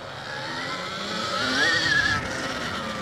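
A motorcycle rides out of a sweeping turn, its engine droning steadily and rising in pitch as it accelerates, close and continuous with wind noise and no talking.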